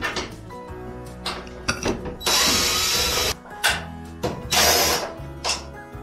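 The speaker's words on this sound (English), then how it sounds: "And then there are two screws here that we are going to unscrew." A power screwdriver backing out two screws on an LG dryer panel during a drum roller repair, two loud whirring bursts between quieter clicks and handling knocks, close by.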